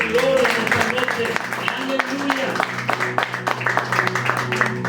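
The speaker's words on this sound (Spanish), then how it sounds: "Fuerte las palmas para el Rey de Gloria en esta noche" Church congregation clapping in rhythm during an evening service, steady hand claps under a voice speaking over them.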